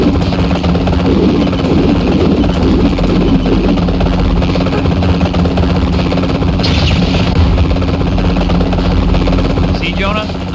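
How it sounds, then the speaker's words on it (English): A helicopter in the Spider-Man 3 video game on PSP, a steady rotor and engine drone holding loud and even throughout, layered under game voices and background action. "Just get me back to the helicopter"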